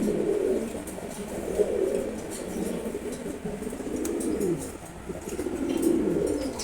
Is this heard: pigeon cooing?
yes